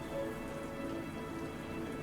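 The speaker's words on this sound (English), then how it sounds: "The sound of rain and thunder faded away" Steady pouring rain hisses evenly on surfaces, a faint, unbroken wash of drops with nothing else over it.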